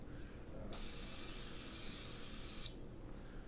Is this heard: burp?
no